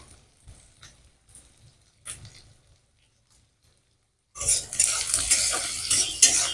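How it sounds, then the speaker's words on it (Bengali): Chopped capsicum stirred and fried in a pan, with quiet scraping and spoon clinks for a few seconds, a brief pause, then a louder burst of sizzling with steady stirring. "কাটা ক্যাপসিকাম এগুলো একটু নেড়ে চেড়ে ভেজে নিয়ে"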